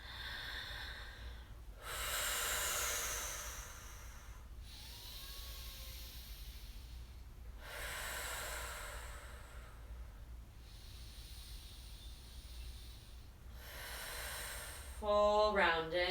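Deep yoga breathing, slow and close: long audible inhales and exhales alternating in roughly even two-to-three-second waves, soft airy hiss between, ending in a brief louder rustle.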